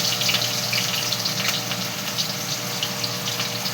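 Steady broadband hiss of onions frying in hot smoking oil in a pan, a continuous close sizzle without talk.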